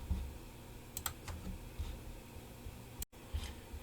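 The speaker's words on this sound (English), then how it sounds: "let's just type in ipconfig" A short command typed on a computer keyboard, a few faint quick key clicks in small clusters with a brief cut of silence, quiet and without talking.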